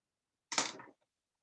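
A single quick, scratchy stroke of a pen or marker drawing a force on a diagram during an engineering test review, short and close, heard alone in a quiet room.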